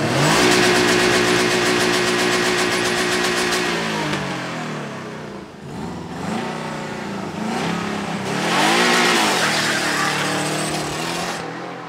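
A project car engine, just brought back to running, revs hard and accelerates, rising and falling in pitch through several loud pulls close by, with no talking.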